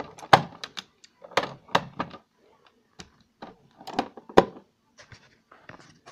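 Small plastic toy doors are snapped shut in a quick series of light, close clicks and clacks, scattered irregularly with brief pauses between them, with no voices.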